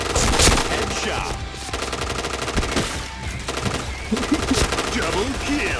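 Rapid gunfire bursts in a shooter video game, with loud overlapping shots and game effects under speech throughout.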